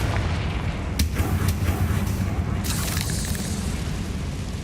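A Confringo fire spell explosion in Hogwarts Legacy, with a sharp burst about a second in and a second crackling blast near the three-second mark over a steady roaring rumble.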